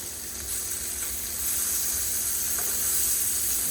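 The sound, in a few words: blackened fish pieces frying in a pan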